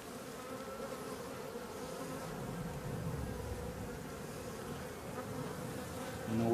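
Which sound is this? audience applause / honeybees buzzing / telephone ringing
honeybees buzzing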